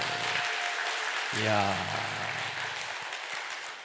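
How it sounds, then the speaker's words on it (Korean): A church congregation at a Sunday service applauds vigorously, a dense rain-like clatter of many hands that runs throughout while a voice calls out briefly over it partway through. "우리 잘했다고 생각하는 만큼 힘차게 박수"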